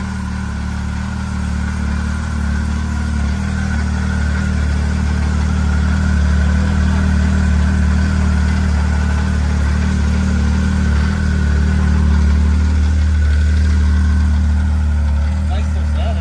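A 2015 Arctic Cat ZR7000 SnoPro snowmobile engine runs steadily after a cold start, a loud, close, continuous idle drone with little change in pitch, with people talking nearby.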